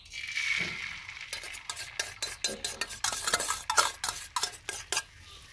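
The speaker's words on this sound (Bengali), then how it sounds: "এয়া কণীখিনি চাওক ভাজা যাই আছে" Eggs frying in hot oil in a pan outdoors in the sun, a soft sizzle under a run of sharp scraping and clinking strokes from a utensil against the pan, close and fairly loud.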